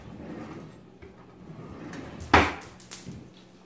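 A kitchen drawer slides and thumps shut with a sharp wooden knock, followed by a second softer bump, close by over a quiet room.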